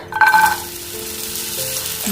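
A burst of hissing sizzle as chopped carrots and beans hit hot oil in a pan, loud at first and then settling into a steady, quieter frying crackle.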